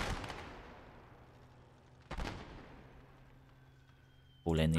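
Artillery and airstrike blasts in Gates of Hell, a World War II strategy game: two heavy booming explosions a couple of seconds apart, each rumbling and fading, before a voice begins speaking at the end.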